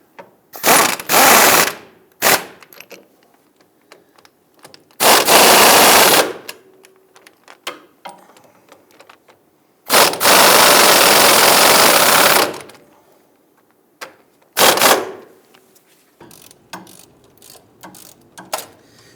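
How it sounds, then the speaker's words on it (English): Hand ratchet snugging a bolt on the front lower control arm of a 2000-2006 Toyota Tundra, heard as several loud, close bursts of rapid clicking separated by quiet pauses. "Let's go ahead and snug down this bolt."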